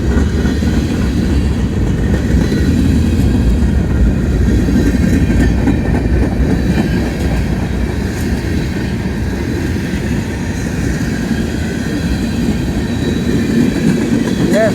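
A long freight train loaded with containers rolls past close by, its wheels and wagons producing a continuous loud rumble with clattering, rhythmic clicks and faint squeals throughout.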